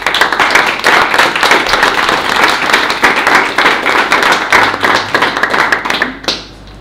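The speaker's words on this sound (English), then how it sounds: "First of all, big applause." A small audience claps after an academic talk on cryptographic proofs, crisp close hand claps in a busy burst that thins out and fades near the end.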